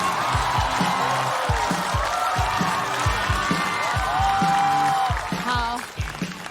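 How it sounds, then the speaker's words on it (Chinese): Studio audience at a Chinese stand-up comedy competition applauds and cheers to welcome a comedian to the stage, steady dense clapping throughout with whoops, while a host's voice and music run over it. "掌声有请嘻哈"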